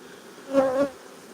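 A honeybee buzzes close by for a brief moment during queen cell building at a hive, a swelling drone that rises and fades within a second over a faint background hum.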